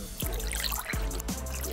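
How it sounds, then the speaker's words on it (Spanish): Liquids for a strawberry cocktail poured into an ice mold, close bubbly trickling with several short glugging pours, quiet and without any voices. "vertimos los líquidos en los moldes"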